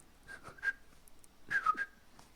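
A person whistles a short, airy tune in two quick bursts of notes separated by a pause, close and fairly soft.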